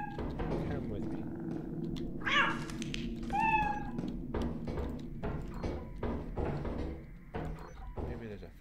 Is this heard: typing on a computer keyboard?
no